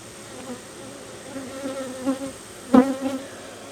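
Honeybees buzz loudly from an opened hive close by, a dense droning hum with individual bees swelling past the microphone, one sharp near pass toward the end.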